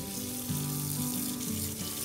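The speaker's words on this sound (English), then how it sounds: "I am washing it" Running tap water pours steadily into a kitchen sink while a cleaned tilapia fish is washed under it, a close, continuous splashing stream with no voices.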